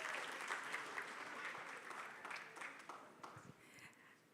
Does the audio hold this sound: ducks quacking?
no